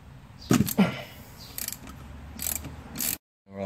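Ratchet wrench on a 14mm brake caliper bolt: close, loud rapid clicking bursts from the pawl, with a brief silence near the end before the clicking resumes.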